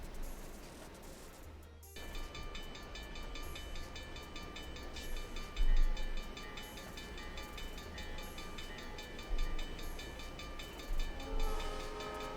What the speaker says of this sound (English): Oh, here is that train.